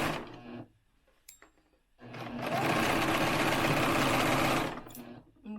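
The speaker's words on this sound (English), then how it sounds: "Because I'm on a serger, I didn't just go ahead and sew across that part." An overlock serger stitches a curved seam on a reusable fabric face mask, its motor whirring loud and steady for a few seconds after a brief start and stop.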